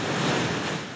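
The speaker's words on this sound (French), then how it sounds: "L'océan est agité, la pêche s'annonce sportive." Rough ocean waves churn near rocks off the island of Madeira, a dense and constant roar of surf and spray, loud and close, with wind buffeting the microphone.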